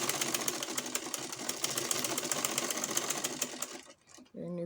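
A sewing machine stitching down fabric on a short, running close and steady in a fast, even rattle for about four seconds before stopping, with a brief voice-like tone at the end.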